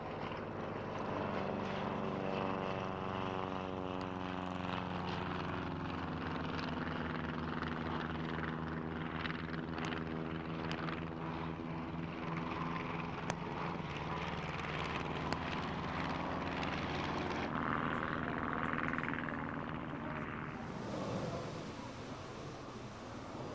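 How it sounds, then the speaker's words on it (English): A Fokker DR-1 triplane comes in to land at an air show, trailing display smoke, its propeller engine droning loud and steady with a falling pitch as it passes close, then easing off. "With smoke billowing out, the Fokker finds the nearest airfield on which to land."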